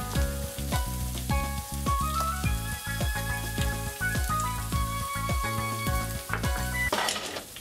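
Green onion, ginger and garlic stir-frying for spicy dipping noodles, a loud hiss with repeated rhythmic clanks and scrapes of a spatula against the pan, then a brief flare of sizzle near the end.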